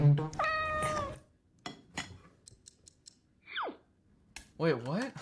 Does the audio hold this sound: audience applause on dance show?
no